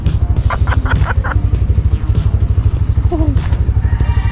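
A motorcycle carrying a passenger on the back drones along with a steady pulsing engine rumble and wind noise, loud and close, while people's voices come through briefly over it.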